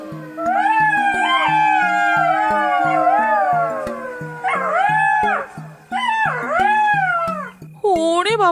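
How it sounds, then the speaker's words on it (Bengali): Two jackals howl loudly at a dumping ground strewn with bones and freshly covered earth mounds: long, wavering, rising and falling cries in several bursts, close and loud over steady background music. "ভাগাড়ের মধ্যে দুটো শিয়াল খুব জোরে ডেকে ওঠে"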